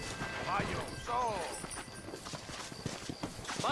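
Horse hooves clip-clop at a trot in the Red Dead Redemption video game, a quick, near rhythmic patter of hoofbeats mixed with short voiced calls and snatches of speech.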